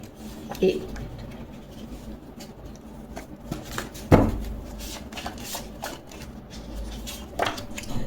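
Tarot cards handled and flipped over by hand make soft, sparse rustles and a few light taps, faint and close, under quiet background.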